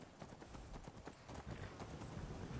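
A horse's hooves clip-clop in the video game Skyrim, a quick, even rhythm of close, fairly faint hoof strikes.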